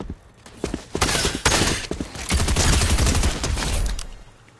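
Rapid bursts of gunfire from a Fortnite match crack out in loud, close volleys, some shots spaced apart and others in dense runs.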